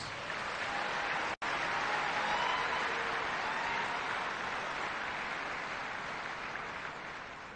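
An audience at a business centre inauguration gives a long, steady round of applause, a dense even wash of clapping heard from within the hall.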